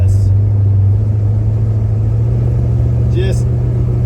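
A big-block-swapped 1966 Dodge Coronet 440 station wagon driving and cornering, with a steady, loud low engine rumble and road drone throughout and a couple of faint high squeaks near the end.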